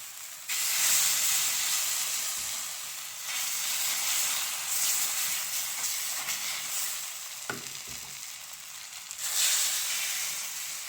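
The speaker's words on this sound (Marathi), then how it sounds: "आपण डोसा तव्यावरती टाकून घेऊया." Dosa batter poured onto a hot tawa and spread, giving a loud bright sizzle and hiss that surges in bursts, with soft scraping between them and a brief clatter partway through.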